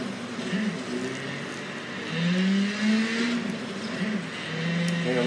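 Rally car engine in the video game WRC 10 revving and accelerating on a stage, a steady loud drone rising in pitch through several gear changes, alone without talk.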